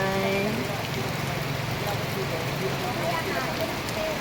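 Steady rain falls outdoors while people jog through it, a dense, continuous hiss filling the whole stretch with fainter voices and tones mixed underneath.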